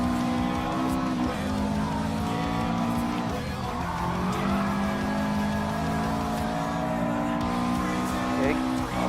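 Subaru race car in Gran Turismo Sport roaring at sustained high revs with throttle held, tires squealing through a turn, loud and continuous for the whole stretch, a voice talking over it.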